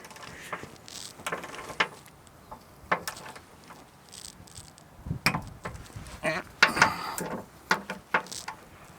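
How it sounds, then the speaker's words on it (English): Bolts on the skid plate of a 2021 Jeep Grand Cherokee Trailhawk tightened with a torque wrench, giving irregular ratcheting clicks and metallic clatter at moderate loudness in a quiet space, with no one talking. "Get the torque wrench."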